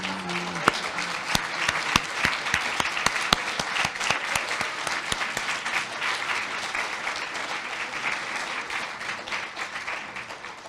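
An audience at an evening memorial lecture applauds steadily for an elder asked to rise, with many sharp claps forming a dense, sustained wash that holds for about ten seconds.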